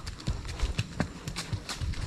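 Horse hooves clip-clopping in a quick, uneven rhythm, close and fairly loud, on a rural farm while loading harvested rice, with faint voices in the background.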